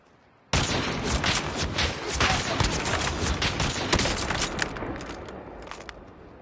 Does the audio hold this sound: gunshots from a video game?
yes